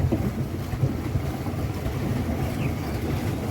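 A foot-pedalled boat moves slowly toward a jetty, giving a steady low churning and rumble of water, with wind buffeting the microphone throughout and no voices.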